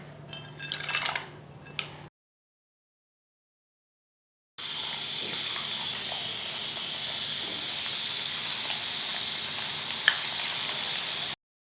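Food frying in a pan in a home kitchen, a steady, fairly loud hiss and crackle running continuously after a brief pause, with faint clatter at the start.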